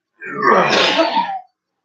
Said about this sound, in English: Stop it, make me cough.